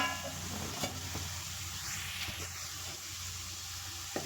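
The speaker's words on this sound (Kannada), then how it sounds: "ತೆಂಗಿನಕಾಯಿ ತುರಿಯನ್ನು ಸೇರಿಸ್ಕೊಂಡು ಅದನ್ನು ಕೂಡ ನಾವು ಚೆನ್ನಾಗಿ ಫ್ರೈ ಮಾಡ್ಕೋಬೇಕು" Grated coconut and bitter gourd fry in a pan with a steady, quiet sizzle and hiss. A few soft scrapes from stirring break through the sizzle.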